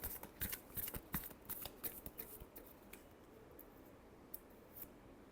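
Tarot cards are shuffled by hand in a quick run of soft, close riffles and slaps that crowd together at first and then thin out toward the end.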